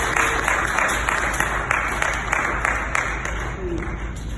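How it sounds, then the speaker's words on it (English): A church congregation at a parish harvest service claps steadily in a dense, even wash of applause with a rhythmic pulse, mixed with crowd noise and a voice underneath. "Let's give it a round of applause to Jesus."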